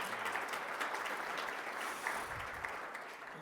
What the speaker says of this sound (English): So please, a round of applause for my colleagues here.